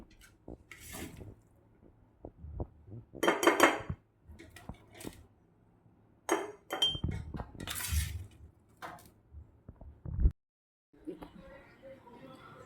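Pieces of sun-cured raw mango and garlic pickle are spooned from a plate into a glass jar, with intermittent close clinks, scrapes and taps in uneven bursts separated by quiet gaps.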